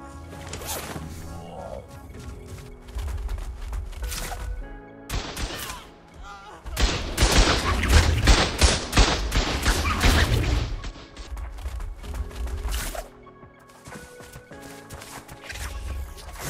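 Turret battery in the ARK PvP video game firing at a player, dense bursts of rapid gunfire with crashing impacts that swell loudly mid-clip, then sporadic shots over game background sound.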